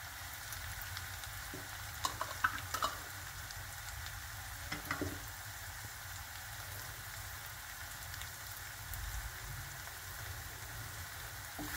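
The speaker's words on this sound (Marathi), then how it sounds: "हे चांगलं हलवून घ्यायचं आहे।" Chole masala, turmeric and red chilli powder being stirred in a hot pan, a steady frying hiss with a few soft scraping taps of the spoon, close and continuous, with no talking.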